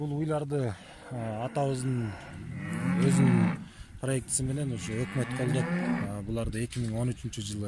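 Aberdeen Angus cattle on a farm give several long, loud, close moos one after another, with someone talking over and between the calls.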